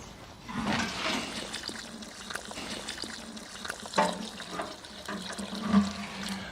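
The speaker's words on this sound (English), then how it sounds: "Now, I will give this citrus the whole of this watering can" A full watering can pours onto a potted citrus plant in a garden, a soft splashing and trickling stream that goes on unevenly for several seconds with small surges and no talking.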